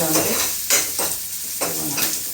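Sliced onions crackle and sizzle steadily in hot oil in a pan, frying until crisp for a spinach keerai kadaiyal, with a stirring scrape roughly every second, close and fairly loud with no talk.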